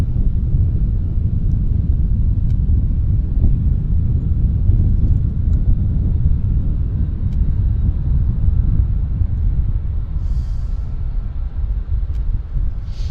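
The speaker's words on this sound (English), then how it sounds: "There, this aircraft is rolling." A fixed-wing airliner rolling for takeoff at Vancouver Airport, a loud sustained low engine roar and rumble with wind buffeting the microphone, steady and distant-to-mid range.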